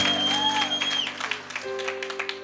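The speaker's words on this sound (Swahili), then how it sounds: "Pigia makofi" Audience clapping in a lively church service, a dense spread of hand claps sustained through the clip over steady music.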